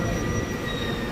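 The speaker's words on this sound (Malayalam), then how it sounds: "ഇത് ഡബിൾ ഡെക്കർ മെട്രോ ആണ്" A double-decker metro train in Paris rumbles along the rails, a short, steady, loud rolling roar with faint high tones of wheel squeal.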